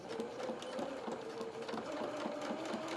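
Home sewing machine running steadily as it stitches a quarter-inch seam on a small lined doll jacket with tails, a close, continuous motor whir with a light rhythmic needle clatter and no talking.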